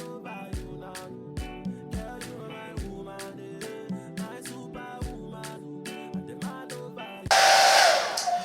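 Near the end a blow dryer drying the lace of a 13x6 frontal wig switches on as a loud, close, breathy whoosh after soft music with plucked, piano-like notes.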